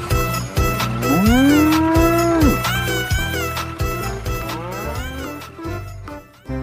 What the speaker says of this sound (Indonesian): ini ada induk sapi belang.